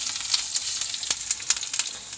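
Dried red chillies and curry leaves dropped into hot oil, tempered over mustard seeds for a dal, ash gourd and mango curry, crackle and sizzle close up in a short burst of sharp pops and hiss.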